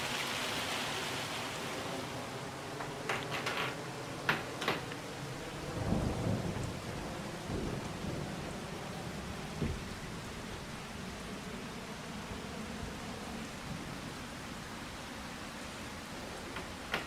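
Rain and thunder in the video game Farming Simulator 25, a steady hiss of falling rain with a deep rumble of thunder rolling in partway through, no voices.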